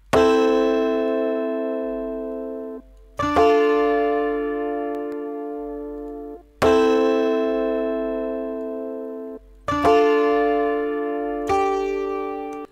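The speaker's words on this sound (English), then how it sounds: "next sound I put in here was another mellotron sound, but this was like a guitar sound" A mellotron guitar voice plays full sustained chords, each struck at once like a strummed guitar, five loud chords with slow decays that ring out alone.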